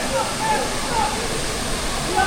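Rushing water roars steadily at the top of a high waterfall in Jamaica, a dense continuous hiss with no breaks, loud and enveloping, while someone talks faintly beneath it.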